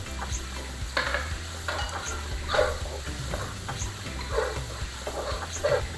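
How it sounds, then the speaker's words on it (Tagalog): Chopped garlic fries in a pan, a continuous close sizzle broken by rhythmic scraping strokes of a spatula stirring it, over a low steady hum. "Unahin na natin ilagay ang tinadtad na bawang at haluin ito hanggang sa maging medyo brown ang kulay."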